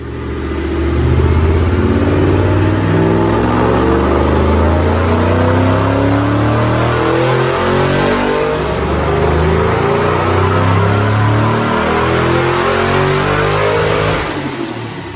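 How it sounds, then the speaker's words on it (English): On a dyno, a 2006 Mustang with a Paxton supercharger, Ford Performance manifold, cams and headers makes a full-throttle pull, a loud, close engine roar climbing steadily in pitch for the whole stretch with no talk. "So watch this dyno pull, I'll show you the numbers."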